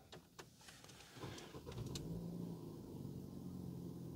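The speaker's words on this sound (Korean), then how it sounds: "시동 한번 걸어보도록 하겠습니다." A used car's engine cranks and catches, starting up close by after some cabin shuffling, then settles into a steady low idle hum that continues to the end.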